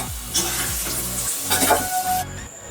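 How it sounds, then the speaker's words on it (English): Potatoes sizzle in hot mustard oil in a kadai while a spatula scrapes and stirs them, close and fairly loud. "After 2 minutes of frying, we are collecting all the fried potatoes"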